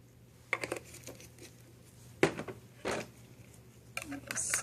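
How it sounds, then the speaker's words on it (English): Hair colour developer mixture being stirred in a bowl, a handful of short, sparse scraping and clinking strokes at low level with quiet gaps between them. "Stir that up as well."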